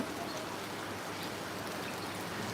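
Heavy rain falls without pause in an even, dense hiss of countless drops striking surfaces, with trickling water mixed in and no voices.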